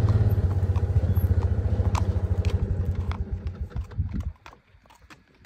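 A bay roan quarter horse gelding walks on a hard surface with steady, evenly spaced hoof clip-clops, close and fairly loud, under a low vehicle rumble. The hoofbeats fade away abruptly near the end.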